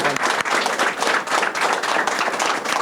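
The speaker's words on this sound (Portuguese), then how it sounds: "forte aplauso para a SBI que está fazendo" Hearty applause from an audience at a government cabinet announcement of a pension increase, dense continuous clapping at close range, steady and loud throughout without speech.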